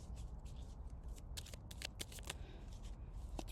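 Tarot cards are shuffled close to the microphone, giving a run of crisp riffling bursts and soft slides with quiet gaps between them.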